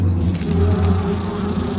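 Honey bees, a non-native species imported for honey production, buzz steadily in a dense, continuous drone, loud and close with no talk over it.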